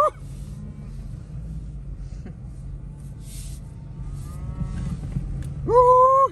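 Cows on a farm moo, with one clear drawn-out moo near the end rising over a quiet background of low rumble and faint distant animal calls.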